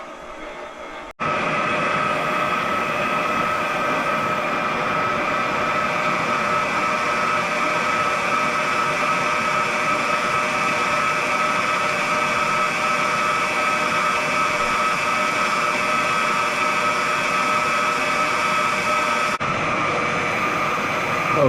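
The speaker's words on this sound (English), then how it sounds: "So we'll just continue with our our stand mixer" A stand mixer beats eggs and sugar for a traditional black cake, a steady, loud whirring drone that kicks in after a second and runs evenly until it cuts off near the end.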